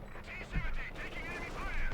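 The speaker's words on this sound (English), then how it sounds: "Katyusha rocket launch here for Eternal" Salvo of Katyusha rockets launched in the strategy game Company of Heroes 2. Rushing whooshes and rumbling booms overlap through the short stretch, with a heavier thump midway.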